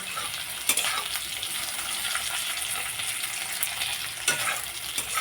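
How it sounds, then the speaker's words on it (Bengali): Potatoes fry for egg curry in a pan with a steady, close sizzle; two sharp utensil clatters cut through the frying. "আলুগুলোকে লালচে করে ভেজে নিলাম।"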